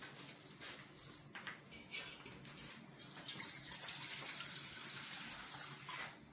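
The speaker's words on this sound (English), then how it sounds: "So when you pour the warm water into the bowl." Warm water poured into a mixing bowl for Irish bread dough, a continuous splashing, trickling flow that builds and steadies over several seconds, close by, with no speech.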